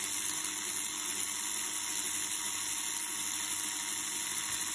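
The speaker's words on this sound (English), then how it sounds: "We're just going to let the motor just run in for a little bit." A Scalextric Formula Junior BRM slot car motor turns over steadily at low voltage, rear wheels raised off the track, giving a constant high-pitched whine with a faint hiss, close and even throughout.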